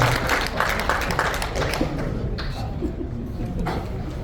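Audience applause at a talk concert event, a loud burst of many clapping hands that gradually thins out, with voices rising underneath toward the end.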